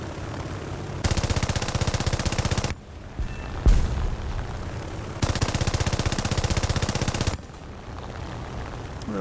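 Aircraft guns in War Thunder, fired from a BF2C-1 biplane at ground targets: two sustained bursts of rapid machine-gun fire, each about two seconds long, with engine drone between them.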